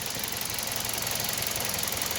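A Toyota Corolla engine runs with one fuel injector pulled out, giving a close, steady knocking rumble with a rough, uneven idle.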